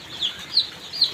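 Newly brought chicks in a brooder giving three short high peeps, evenly spaced and fairly close, over a soft background hum.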